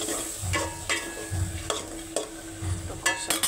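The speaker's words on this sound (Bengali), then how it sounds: "মশলা কষানো শেষ, এখন আমি চিংড়ি মাছটি ছেড়ে দেব।" Shrimp stirred into a spiced masala in a hot pan, with steady sizzling frying and repeated scraping strokes of a spoon, close and loud with no talking.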